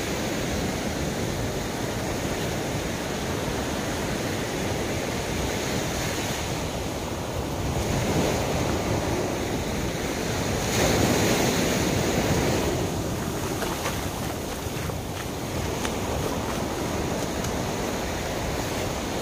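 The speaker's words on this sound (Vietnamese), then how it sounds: "Hiện tại mình đang đi cái biển Thiên Cầm." Sea waves washing ashore at Thiên Cầm beach in Hà Tĩnh, a steady broad surf roar with gentle swells in loudness, some wind buffeting the microphone, and no voices.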